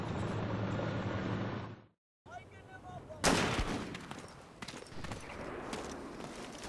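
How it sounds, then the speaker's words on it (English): Gunfire rings out in the combat video game Full Spectrum Warrior: Ten Hammers, with a sharp loud report followed by scattered bursts and crackling shots over a steady battlefield ambience after a brief dropout. "Our man on the ground, Jared Stevens, a little rattled by gunfire."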